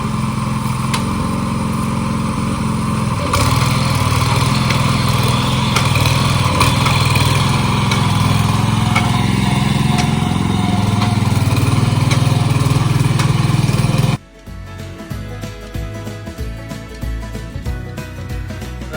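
A small farm engine runs loud and close, its revs raised into a steady drone that drops abruptly near the end to a rougher, lower idle.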